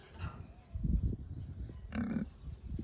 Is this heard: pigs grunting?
yes